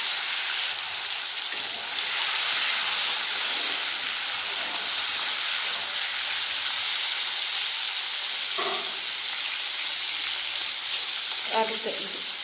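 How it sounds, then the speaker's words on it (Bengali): Whole cumin, a bay leaf, green chilli and chopped tomato sizzle steadily in hot oil, a loud constant frying hiss with a few brief clatters of stirring or added ingredients near the end. "তেল ভালোভাবে গরম হয়ে গেছে, তেলের মধ্যে দেবো গোটা জিরে, দিয়ে দেবো একটা তেজপাতা"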